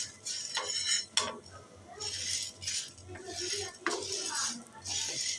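A metal spoon stirs and mixes ingredients in a cooking pot on a low stove flame, making close, continuous clinking and scraping with small rattles throughout.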